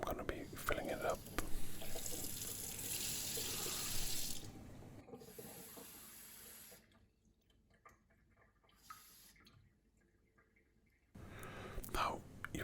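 Water pouring into the lower chamber of a moka pot, a steady close hiss of filling water with soft whispering over it, then quieter drips and trickles before the pour resumes.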